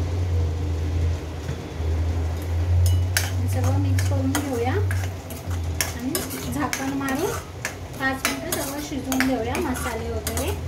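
Rajma curry stirred and mixed in a pot, a spoon scraping and clinking against the metal in uneven strokes over a steady low hum and faint sizzle.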